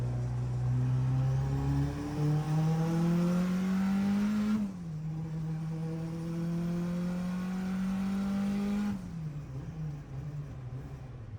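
A Honda H22-powered hatchback making over 700 horsepower revs at full throttle, its engine note rising steadily in long pulls broken by two quick gear shifts, loud and close with no talking.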